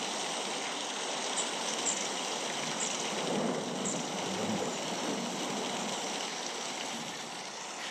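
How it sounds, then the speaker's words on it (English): A baby sound machine plays a steady, dense wash of rain with faint thunder rumbles mixed in, continuous and even for the whole stretch. "Maybe you want some thunder."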